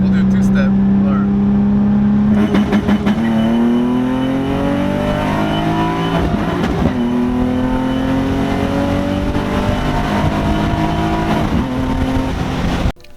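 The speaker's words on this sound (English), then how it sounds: "Have you tried two-step launching?" A tuned Nissan G35 holds a two-step launch limiter, its engine droning at a loud sustained pitch that rises in repeated climbs, broken by stuttering bursts of crackle, with people talking over it.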